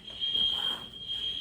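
A church fire alarm sounds, a steady high-pitched electronic tone that continues unbroken and fairly close, with no talking.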